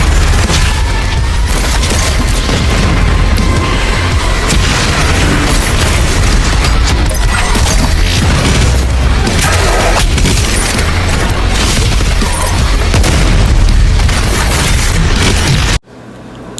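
A pounding heavy metal soundtrack from the video game Doom Eternal plays loud and dense throughout, layered with explosive booms and gunfire-like blasts, then cuts off abruptly near the end.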